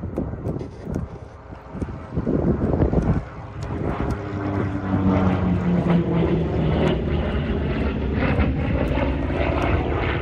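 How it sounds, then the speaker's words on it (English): A huge radial piston-engined warbird roars past at a UK airshow, the propeller drone building from a distance to a loud, sustained pass with wind buffeting the microphone. "What a plane that is."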